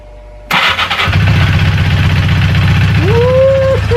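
A cafe racer motorcycle engine cranks and fires, then settles into a steady, loud, close idle with a rhythmic low thrum, and a brief higher whine rises over it near the end.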